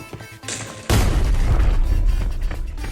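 A grenade detonates in the shooter game Arena Breakout, a sudden loud boom with a heavy low-end blast that rumbles and decays over a couple of seconds after brief quieter game sounds.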